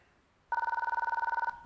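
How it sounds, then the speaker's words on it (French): A telephone rings loudly and close by in a rapid electronic trill of about twenty pulses over one second, starting abruptly after near silence and stopping just as sharply. "téléphone"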